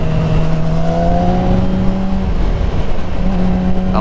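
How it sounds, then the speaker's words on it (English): Engine of a motorcycle in a MotoGP video game held at full throttle along a straight, a loud steady high whine rising slightly in pitch, with no talk over it. "I like to floor it in this little section just because it's nice straight away."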